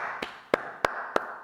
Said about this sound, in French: Jésus l'applaudit